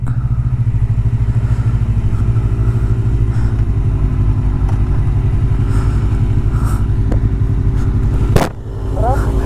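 A Kawasaki ZX25R inline-four motorcycle idles and revs loudly and steadily up close for about eight seconds, then cuts off abruptly in a sharp burst before the engine settles back.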